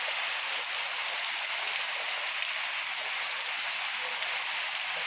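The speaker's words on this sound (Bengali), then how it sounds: "প্রচণ্ড পরিমাণে বৃষ্টি হচ্ছে ইতিমধ্যে" Heavy rain pours steadily over Baharampur on a morning rain day, a dense, constant hiss with no breaks, close and loud throughout.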